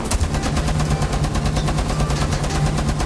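Continuous rapid automatic gunfire in the Rainbow Six Siege video game, a loud, dense stream of shots lasting throughout with no pause.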